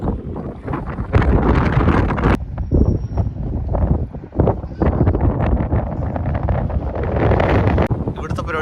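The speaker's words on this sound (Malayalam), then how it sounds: "നല്ല തണുപ്പും കാറ്റും" Strong, cold wind gusts against the microphone at a mud volcano site in Azerbaijan, roaring in uneven bursts close up with no pause; a voice is heard faintly beneath it.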